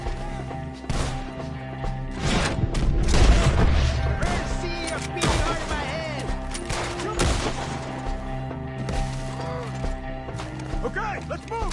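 Repeated gunshots crack and pop in irregular bursts through a shootout among woods and trees, mixed with shouting voices and a busy, chaotic background.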